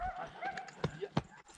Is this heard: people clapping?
no